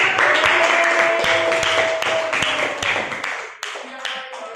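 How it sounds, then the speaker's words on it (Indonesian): A group of students in a classroom claps together in a burst of uneven, close-up applause. A faint voice and a brief tonal hum sit underneath, and the claps taper off near the end. "Oke, tepuk tangan dong."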